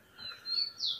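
A female rufous-collared sparrow (tico-tico) in a cage gives a quick thin chirp, faint at first and sharper at the end, alone and nearby.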